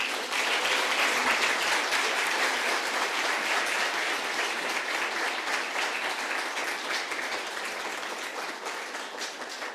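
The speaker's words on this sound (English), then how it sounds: "Can we give this phenomenal woman a big round of applause, please?" An audience at a women's empowerment summit applauds, sustained dense clapping from a large crowd lasting the full stretch and easing slightly toward the end, with no talk over it.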